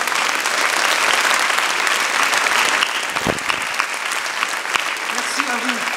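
Sustained applause from an audience at a New Year's address by the mayor of Marseille's 11th and 12th districts, steady dense clapping filling the room throughout, with a brief low thump midway.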